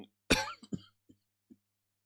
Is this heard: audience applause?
no